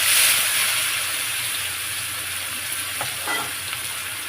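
Whole cumin, dried red chillies and onion frying in hot oil for a fish curry, a loud, steady sizzle and hiss at close range that fades slightly after a strong start, with a few faint scrapes of stirring.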